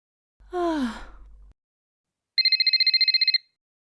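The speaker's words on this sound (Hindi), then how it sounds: "मम्मी का फोन बज रहा है" A short human sigh or exhale, then after a pause a telephone bell rings in a rapid trilling burst for about a second, clear and fairly close.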